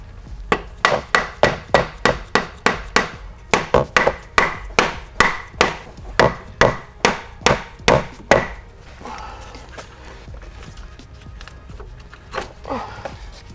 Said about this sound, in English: I'm going to use this hammer to hammer the pulley off